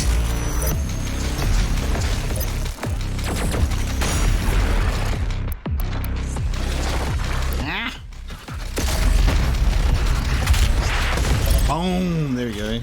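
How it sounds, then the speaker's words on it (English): Explosions and heavy gunfire from the DOOM Eternal first-person shooter game, a dense, loud barrage of booms and blasts with someone talking over the action. "That explosion was good shit."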